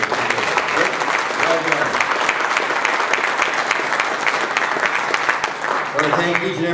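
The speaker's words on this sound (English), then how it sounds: "give a big round of applause to our guest of honor" Loud, sustained clapping from a large crowd fills the whole stretch, with a voice briefly speaking over it near the start.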